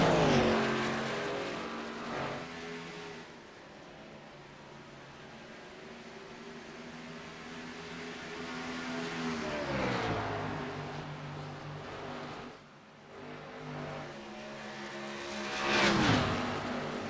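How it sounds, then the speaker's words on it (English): NASCAR Xfinity Series race cars, including a vintage number 90 Ford Mustang, roar around Darlington, with engine drones rising and falling as cars pass in waves; the sound is fairly distant and fluctuating, with no talk. "Inside of that Blazer, vintage number 90 Ford Mustang, Bobby Blazer starting to reel in your race leader"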